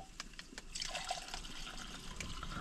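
Water being poured carefully into a container, making a quiet, brief trickle with light splashes and drips and no voices over it.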